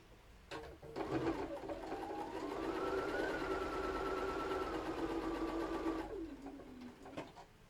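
Sewing machine stitching a quilt block along a seam, a steady close whirring run of several seconds that winds up and then slows to a stop, heard alone.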